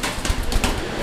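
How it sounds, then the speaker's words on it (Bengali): Active, healthy pigeons kept in a pen for sale give soft, low cooing and brief fluttery rustles close by, in short uneven bursts over a steady background, with no talk. "এই যে দেখেন কবুতর, ঠিক আছে, একদম ঝরঝরা এবং অ্যাক্টিভ কবুতর"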